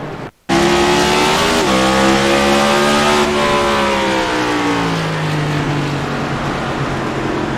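Stock-car-style race cars in a NextGen series sim race roar past together, engines droning at high revs with rising and falling pitch as the pack battles for position; loud and close, with a brief dropout near the start.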